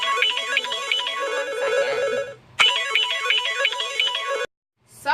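A mobile phone ringtone for an incoming call plays a bright repeating melodic pattern in two loud, close bursts with a short gap between them, then cuts off, with no talk over it.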